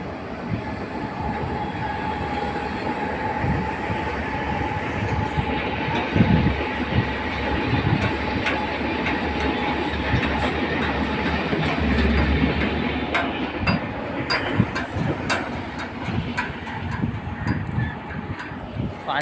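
Train rumbling past near Panju village, with a steady, loud rolling clatter and a low drone throughout, plus rhythmic wheel clicks and a faint voice now and then.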